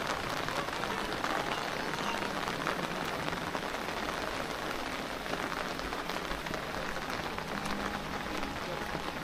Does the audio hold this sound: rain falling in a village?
yes